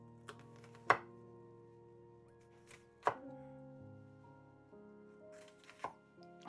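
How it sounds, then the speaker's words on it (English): Onions being chopped with a knife, not finely diced: sharp, well-spaced knife thunks on a board, a few loud strikes among quieter taps, with no voices over them. "Alright, so we're just chopping the onions, so I'm not gonna do a fine dice."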